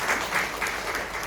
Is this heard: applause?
yes